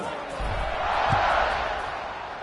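A stadium crowd roars in the college football video game CFB 26, a broad steady wash of home-fan cheering that swells in the middle and stays distant and moderate, with a few low thuds underneath.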